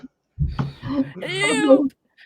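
A cat cries indoors with one drawn-out, wavering meow that rises and falls, close and fairly loud, right after a short burst of human talk.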